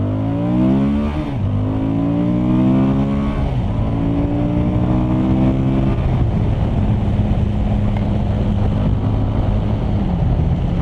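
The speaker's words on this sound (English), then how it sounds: "let's give it some revs" A 2020 Suzuki V-Strom 1050XT motorcycle engine revs up and down repeatedly, its pitch rising and falling in steps over a constant roar, close by and continuous, with no voices.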